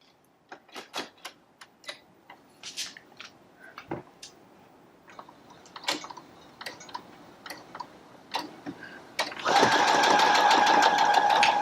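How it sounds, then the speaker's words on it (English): Close sewing machine stitching a center needle straight stitch, a series of short taps and clicks at first, then a steady continuous motor whir near the end. "I'm just going to sew, and about here I'm going to stop, and I'm going to reverse a couple stitches"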